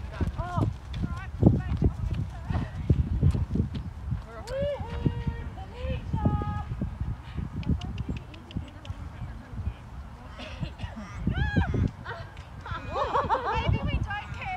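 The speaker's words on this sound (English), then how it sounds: "So I then made the smart decision and went back to trotting." A young horse's hooves clip-clop in a steady trotting rhythm in an arena during a jumping session, close by, with people chatting and laughing over the footfalls.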